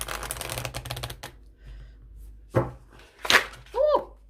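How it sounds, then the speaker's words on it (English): A quick riffle of oracle cards being shuffled, followed by a few scattered taps and brief voices in a quiet room. "That is a good shuffle."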